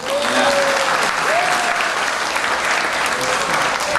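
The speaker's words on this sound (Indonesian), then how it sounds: "Tepuk tangan." An academic audience in a hall claps, a loud, sustained burst of applause that holds steady throughout. A few voices call out briefly above it.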